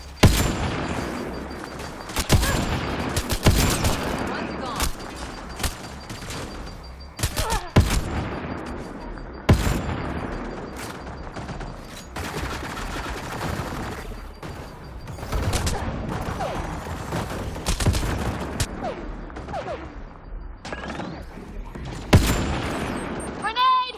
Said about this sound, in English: Hip fire the sniper rifle.